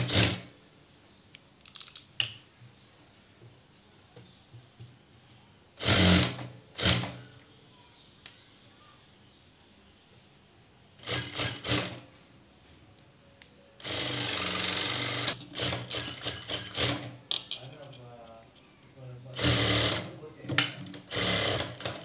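A sewing machine stitches lining onto the back neck of a blouse in several short, fast, rattling bursts separated by pauses; a voice talks quietly between the runs.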